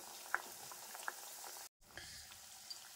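Khaja pastries fry in hot oil with a steady bubbling sizzle and a few sharper pops. The sound cuts out briefly near the middle, then resumes.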